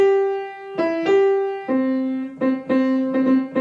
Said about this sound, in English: And the cello part, shosholoza.